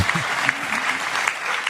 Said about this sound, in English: And a big hand clap goes there.